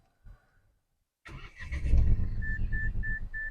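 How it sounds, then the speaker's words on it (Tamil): A Mahindra Bolero B8 facelift engine cranks and starts after a brief click and quiet pause, catching with a burst of rumble that settles into a steady idle, with a repeating chime sounding over it. "ஸோ வண்டி ஆன் பண்ணுறேன் பாருங்கள்"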